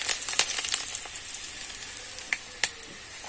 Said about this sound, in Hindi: लहसुन तड़क गए संगवारी और प्याज ला डालू।